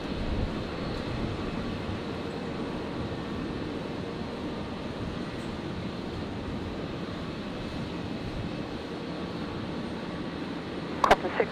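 An Air New Zealand A321neo airliner arrives at Brisbane airport from Wellington, a low, steady, fairly distant engine rumble throughout, ending in a couple of sharp clicks.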